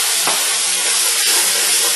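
Wine splashes into a hot cast iron skillet with garlic beside a club steak, setting off a loud, steady hiss of sizzling and steam that holds for the full two seconds with no voices.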